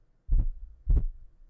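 Two deep, thudding heartbeat pulses from a sound effect in the video game Lilly Monster, close and heavy, each beat a doubled thump, spaced a little over half a second apart with quiet in between.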